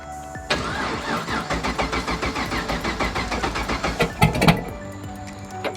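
A big-turbo Camaro with a 4-inch exhaust exiting through the hood cranks and fires up, then settles into a loud, lumpy idle with rhythmic pulses and a brief blip near the end.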